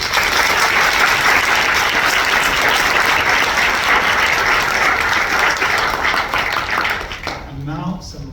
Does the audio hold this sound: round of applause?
yes